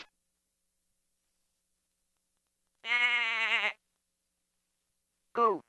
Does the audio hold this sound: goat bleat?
yes